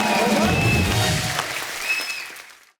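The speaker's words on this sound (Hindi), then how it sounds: "तालियां जोरदार होनी चाहिए।" On a televised comedy talk show stage, a studio audience claps in a short burst that quickly fades away to silence.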